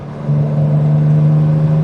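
A Ford Capri 2.8 Injection engine drones at a steady, loud pitch from inside the car after a downshift, rising briefly and then holding a smooth revving note.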